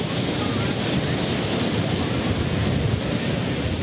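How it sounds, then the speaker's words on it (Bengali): Rough rivers in Bhola, a coastal district, churned by cyclone winds, with a dense, steady roar of wind and surging water filling the whole stretch, loud and unbroken with no voices. "ঘূর্ণিঝড়ের প্রভাবে উপকূলীয় জেলা ভোলার অধিকাংশ নদ নদী উত্তাল হয়ে ওঠে"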